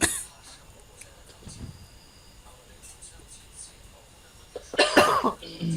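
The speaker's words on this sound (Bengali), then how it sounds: "ওরও কাশি আসছে, আমারও তো কাশি আসছে।" A burst of coughing comes near the end, loud and close, after a stretch of quiet background noise with faint sounds.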